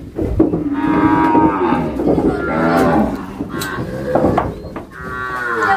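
Several Nelore cattle moo in long, drawn-out calls, overlapping and fairly close, filling the whole stretch with lowing.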